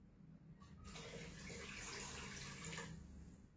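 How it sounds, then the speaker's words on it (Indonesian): Water is poured into a basin, a steady splashing gush of about two seconds that swells and then tapers off, heard faintly and alone. "Kemudian Yesus menuang air ke dalam sebuah basi."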